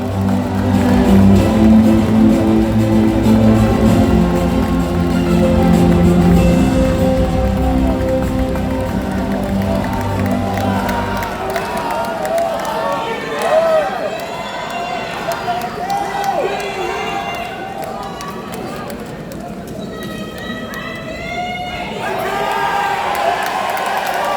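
At a party convention, a crowd cheers and claps loudly at first, the roar fading after about ten seconds into scattered whoops and murmurs as voices call out.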